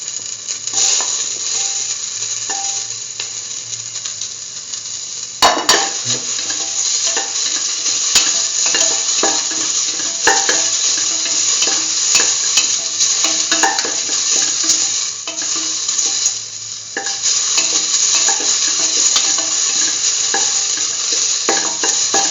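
Tomato pieces sizzle steadily in a hot pan while a utensil scrapes and stirs through them, with a few sharp clicks and knocks against the pan over a continuous frying hiss.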